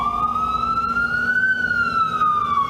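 Ambulance siren wailing on a New York City street, a loud steady tone slowly rising and falling in pitch, close by and continuous with traffic rumble beneath.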